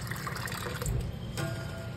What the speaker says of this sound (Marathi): रवा पण धुवून घेतला